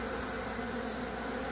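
Mandaçaia stingless bees from the Caatinga buzz at their hive in a steady, dense drone that stays close, even and continuous throughout, with no voices.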